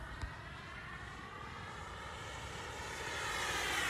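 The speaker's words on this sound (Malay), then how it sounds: "Kita panas badan dulu, test thrust." An RC jet turbine engine warming up on a tarmac strip before a thrust test gives a steady, close roar with a high whine that slowly builds in pitch and volume, heard alone.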